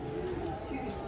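A golden pigeon with orange eyes gives a soft, low coo, brief and close, heard over a steady background hum.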